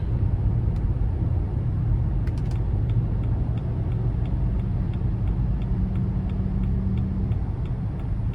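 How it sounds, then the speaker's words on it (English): A 2016 Dodge Journey Crossroad Plus with a 2.4-liter four-cylinder accelerating on the road, heard from inside as a steady low engine and road rumble with faint ticking from the cabin. "even with a 4-cylinder pushing basically a mid-size SUV, I'm not having any issues getting up to speed, accelerating"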